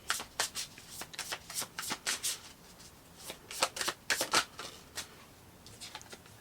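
Tarot cards shuffled by hand in quick riffling bursts, crisp papery flutters and slaps repeating in uneven clusters, close and clear with no speech.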